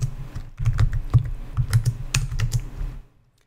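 A command is typed on a computer keyboard in quick, uneven bursts of close key clicks lasting about three seconds, ending in silence.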